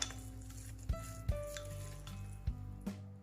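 Minced pork filling mixed with peanut oil, salt, oyster sauce and corn starch, with soft utensil clinks and knocks against a bowl at a few irregular moments over a low steady hum, quiet and close.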